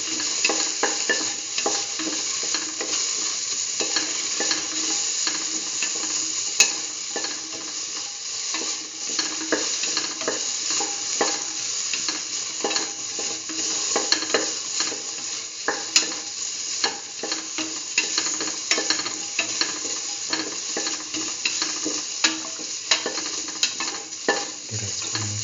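A cauliflower and chayote rice mixture sautéing in a pan, with a constant bright sizzle and frequent scraping, clicking stirs throughout, recorded close and fairly quiet, no voices.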